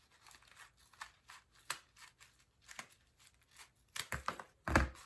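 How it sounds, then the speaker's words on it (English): Scissors snipping a coffee filter cone in half, a run of soft, close, irregular paper cuts and crinkles that grows into louder final snips. "So we're going to cut the cone, cut it in half."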